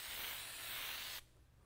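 Spray adhesive hissing from an aerosol can onto a screen-printing platen while printing hoodies, a steady loud hiss for over a second that cuts off abruptly, leaving faint room noise.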